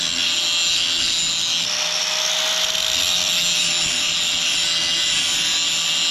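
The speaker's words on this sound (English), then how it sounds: "It's hard grinding upside down." Metal grinding done upside down on a welding job, a steady, loud, continuous high-pitched whine running without break at close range.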